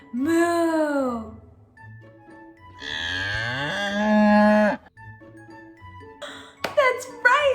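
A human voice imitates a cow's moo in a sing-along of the farm song, with drawn-out harmonic moos set apart by spoken lines and ending in brief higher vocal sounds.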